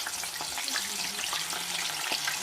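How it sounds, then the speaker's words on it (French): Plantain pieces frying in hot oil, a dense continuous sizzle with crackling pops scattered throughout, close and fairly loud with no voices. "les plonger dans l'huile qui est déjà chaude. Voilà, comme vous pouvez voir, on met plusieurs dans l'huile"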